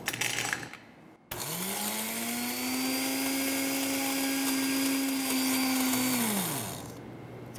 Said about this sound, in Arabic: أولاً نطحن الفول السوداني